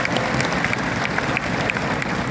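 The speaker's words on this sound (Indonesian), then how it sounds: "Aplaus dulu dong buat Best Corporation Syariah" An audience at a Best Corporation Syariah gathering in Bandung gives steady, dense applause for the company, a continuous clapping crowd with no pauses. Nobody speaks over it.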